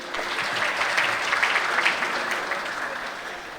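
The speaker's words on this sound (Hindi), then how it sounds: "आपकी भरपूर तालियों में ज़बरदस्त इस्तकबाल कीजिएगा" Sustained, dense applause from a crowd at a tribute event for the late actor Muhammad Qavi Khan, a steady wash of clapping at even volume throughout.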